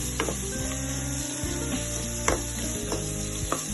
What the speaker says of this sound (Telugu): కరివేపాకు, పసుపు పొడి, కొద్దిగా సాల్ట్ వేసి వేయించుకోవాలి. బాగా వేగనివ్వాలి.